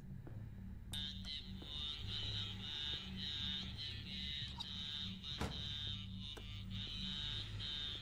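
A steady electronic alarm tone drones on and on in the horror video game Home Sweet Home, buzzing continuously with a low hum beneath it and a few faint clicks.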